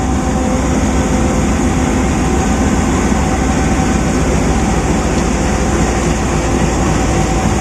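An AG30 goods locomotive on a Pakistan railway, heard as a loud, steady rumble with a broad roar that holds unchanged for the whole stretch, with no talking.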